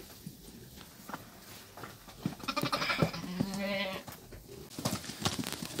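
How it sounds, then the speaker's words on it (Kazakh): A young billy goat bleats several times up close, loud wavering cries with a few softer bleats and rustling farmyard sounds around them. "Біздің жас текешік Акселдің баласының алғашқы текелігі."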